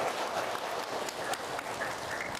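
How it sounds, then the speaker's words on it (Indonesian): Crowd applause at a religious prayer gathering, a continuous dense wash of clapping heard briefly at moderate distance with faint voices underneath. "Tepuk tangan buat BSI."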